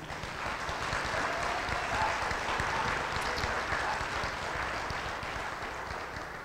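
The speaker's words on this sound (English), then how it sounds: "you honor us with your applause and your respect" Sustained applause from an audience at a tribute or awards event, a dense steady wash of many hands clapping at moderate distance, with no voices standing out.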